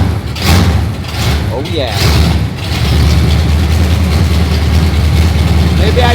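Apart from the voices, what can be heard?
1979 Jeep Cherokee Chief 360 V8 engine starting and idling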